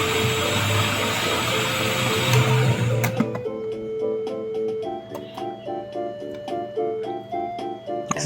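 Electric mixer beating sprouted black bean brownie batter, a loud whirring motor for about three seconds that then stops, leaving softer clicks and kitchen knocks.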